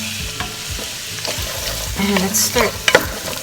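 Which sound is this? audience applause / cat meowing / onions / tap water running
onions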